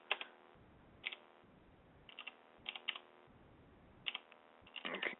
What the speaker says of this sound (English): I'm going to type it in.